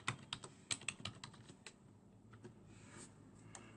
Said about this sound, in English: I will type the password.